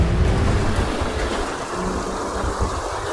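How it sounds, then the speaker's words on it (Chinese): A thunder and rainstorm in the video game GTA5, with a low rumbling roll of thunder over steady hissing rain, loud at first and easing slightly. "这个雷电风雨交加，连开车都会打滑"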